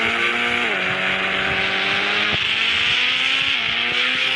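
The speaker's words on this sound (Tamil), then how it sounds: "ஒரு லாம்போர்கினி வந்து தெரியும்" A Lamborghini runs at full speed, its engine holding a steady high-pitched drone with sudden shifts in pitch. The sound is loud and continuous from start to finish.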